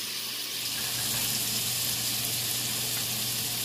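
Cabbage, bacon, onions and carrots frying in a pan give a steady, even sizzle with a constant hiss and no voice over it.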